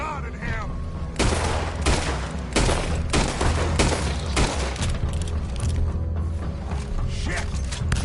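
Rapid bursts of gunfire in the video game Red Dead Redemption 2, several loud broadband volleys in quick succession over a steady game backdrop, with some mechanical clatter between shots.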